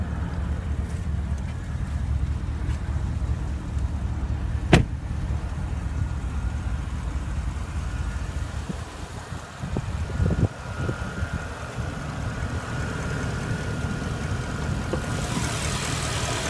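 A 2016 Porsche Panamera Turbo's 4.8-liter twin-turbo V8 idles steadily at moderate volume, a smooth even hum with a brief click and a few faint knocks along the way.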